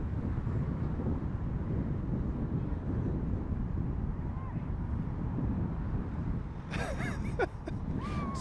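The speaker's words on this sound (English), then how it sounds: "It's a bit breezy again" Steady, loud wind buffets the microphone outdoors at Heathrow Airport, a continuous low rumble throughout, with faint high-pitched squeaks briefly near the end.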